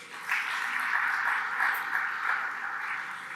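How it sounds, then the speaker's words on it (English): Audience applause in a convention hall, a steady mid-distance wash of clapping that holds evenly for several seconds with no voices over it. "please, a round of applause for Brother Arif Jahangiri"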